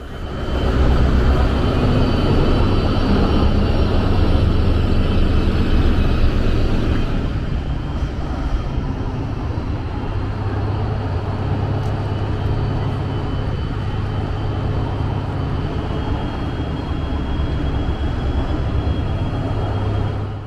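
Brightline passenger train locomotive at a Florida station, a steady low rumbling idle with broadband hiss, loud and continuous, easing slightly after the first few seconds, with no talk.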